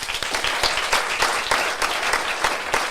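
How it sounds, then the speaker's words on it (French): An audience at a talk event applauds a guest with dense, steady clapping, a lively mass of handclaps sustained throughout at moderate loudness. "j'aimerais qu'on fasse un tonnerre d'applaudissements pour notre deuxième invité, Margot"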